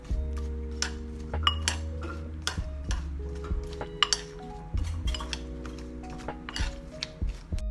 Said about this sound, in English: I'm gonna mix that up. Make sure all of them are all covered with the maple syrup.